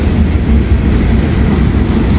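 Kansas City Southern train passing a crossing, a loud, steady rumble of rolling railcars heard close by, with no talking.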